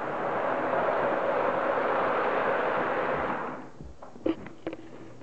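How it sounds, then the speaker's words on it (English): A small model diesel train on a Christmas layout rumbles steadily along a track with a broad whooshing hum, then fades, followed by a few sharp clicks and clacks. "here comes the diesel around again"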